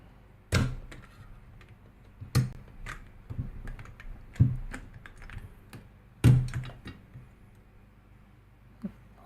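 Keys are struck on an IROK MG75 Pro, a gasket-mounted keyboard in an aluminium case, giving sparse, deep, thocky clacks at irregular intervals with quiet pauses between presses, heard up close.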